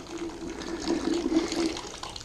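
Beer wort running through a hose into a 5-gallon plastic fermentation bucket: a steady close splashing, gurgling flow of liquid with a faint tonal ring, heard on its own.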